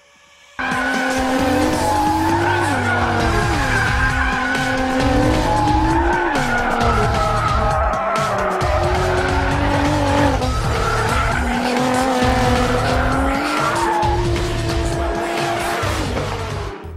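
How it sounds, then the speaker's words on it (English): A BMW rally car on shakedown tests skids hard with sustained loud tire squeal and high-revving engine tones that rise and fall, continuous for most of the stretch after an abrupt start. "Here's a short video of the car undergoing a series of shakedown tests to prepare for the rally"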